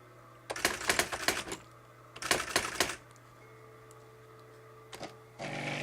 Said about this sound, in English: Brother EM-411 word processor and typewriter.